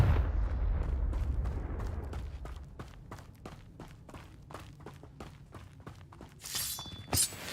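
In the Hogwarts Legacy video game, a Confringo blasting spell opens with a low rumbling blast, followed by a long run of sharp cracking impacts and debris clatter, ending in a brighter burst.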